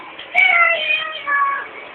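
A ventriloquist imitates a cat with two drawn-out, whiny meows, loud and close, with no other sound.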